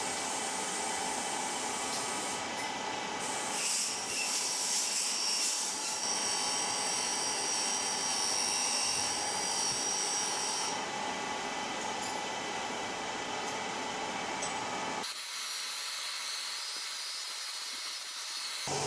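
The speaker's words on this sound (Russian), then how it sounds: "Мечиком из набора нарезаю резьбу под вставку." Hand tap from a kit cutting threads for a thread insert in a drilled hole in an Infiniti FX35 cylinder head, a steady grinding, scraping drone running continuously and loudly, changing tone near the end, with no talking.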